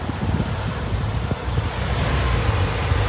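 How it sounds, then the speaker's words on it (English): Steady road traffic passing outdoors with a continuous low rumble of cars and a truck, some wind buffeting the microphone, recorded as a test of a Boya Mini 2 wireless microphone left unplugged; no talking. "Got a bit of traffic going by."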